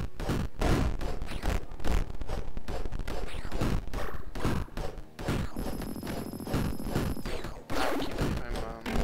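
Quick volleys of rapid gunshots and sharp impacts in the dungeon-crawler game Dungeon Souls, coming in dense clusters with brief gaps between them.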